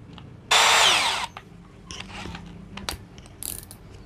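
A Milwaukee M12 impact drill set to torque 14 gives one loud burst driving a screw, about 0.7 s long, until the clutch stops it. Scattered faint clicks and handling knocks follow.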